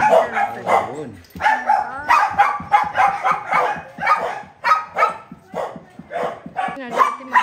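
Several dogs barking repeatedly in Nepal, loud close yips and barks in quick bursts with some whimpering, fairly continuous throughout.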